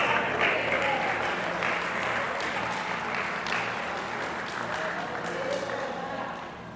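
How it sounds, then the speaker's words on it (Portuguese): A church congregation applauds in a sustained, fairly faint wash of clapping that carries on with a voice speaking over it. "Vamos aplaudir Jesus de Nazaré."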